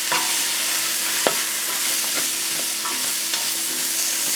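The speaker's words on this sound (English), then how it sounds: "Give it a good stir." Seasonings and vegetables fry in hot oil while a spoon stirs them, with a constant close sizzle broken by sharp scraping clicks of the utensil against the pan.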